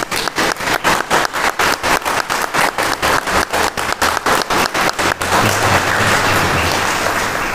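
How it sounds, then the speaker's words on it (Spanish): A Sunday Mass congregation at Villa Alegre applauds in steady, rhythmic unison, about twenty evenly spaced loud claps, then breaking into a denser, continuous burst of applause. "le brindamos un cariñoso aplauso en su día"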